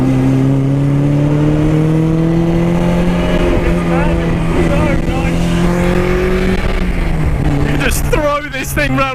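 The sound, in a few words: Honda S2000 engine revving to 9000 RPM with VTEC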